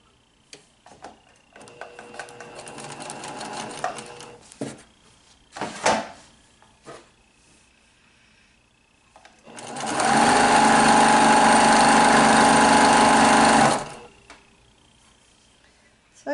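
Sewing machine stitching quilt strip sets together, a loud, steady mechanical whir running for about four seconds after quieter handling clicks and fabric rustles, close up.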